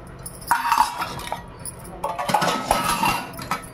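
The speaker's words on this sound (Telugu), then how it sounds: "వీటన్నింటినీ ఇలా కలిపేసుకుని బాగా కలిసేలాగా" A spoon or hand mixes chopped onion, green chillies and coriander into salted lentil batter for onion vadas, with bright clinks against the bowl in two busy bursts of scraping and tapping.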